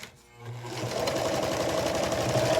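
Sewing machine chain stitching small quilt blocks, its motor whirring steadily and close after a brief quiet start, running continuously at an even, fast stitch rhythm.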